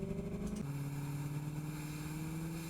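Raw engine intake sound effect recording, a steady droning tone with a pitch drop about half a second in, then a sustained even hum, moderately loud and alone.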